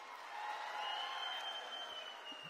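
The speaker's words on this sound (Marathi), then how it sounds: "त्यांच्यासाठी जोरदार टाळ्या वाजवा।" An audience claps at a Maratha political gathering marking Ahilyadevi's birth anniversary, a steady wash of applause heard faintly from a distance for a couple of seconds.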